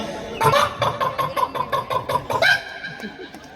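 A comedian on stage imitates a rooster with a rapid series of rhythmic clucks, close and fairly loud, ending in a drawn-out crowing note.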